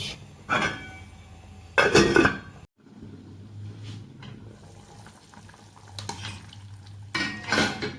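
Metal pot lid clanks down onto a cooking pot of sprouted fava beans, a few sharp clatters followed by a low simmering hum.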